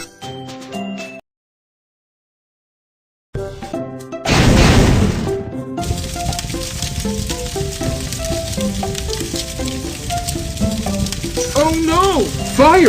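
Fire in a Baby Panda earthquake rescue cartoon game set in a factory: a crackling, whooshing burst flares after a short silence, then steady hissing flames continue under bright game chimes and tones.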